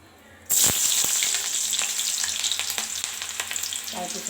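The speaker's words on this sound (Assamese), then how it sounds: "তাৰ পিছতে আমি ইয়াত পিয়াজ দি দিলো পিয়াজখিনি ৰঙা হোৱালৈকে ভাজিম" Chopped onions hit hot oil in a kadai and burst into loud, close sizzling that settles into steady frying with occasional stirring clicks and scrapes, no voices.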